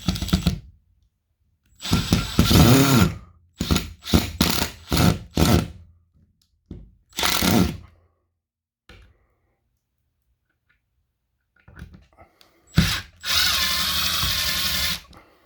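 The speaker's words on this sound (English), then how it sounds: "I'm just drilling it, screwing it in directly into the stud." Power drill driving screws directly into a wall stud while mounting a Chamberlain garage door opener plate, heard as several loud, close bursts of whirring of varying length separated by quiet pauses, ending with one longer sustained run.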